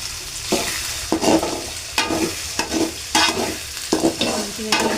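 Eggs for fried rice sizzling in a hot pan while a spatula scrapes and stirs them in repeated bursts of scraping, close and fairly loud over a steady frying hiss.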